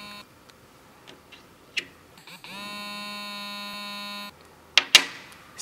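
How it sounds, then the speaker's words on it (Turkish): A steady electronic beep from an RS PinPointer metal detector holds for about two seconds in the middle, signalling a mode change, bracketed by soft clicks and a couple of sharp taps near the end. "Cihaz kısa bir bip sesi ve titreşimle mod değişimini bildirir."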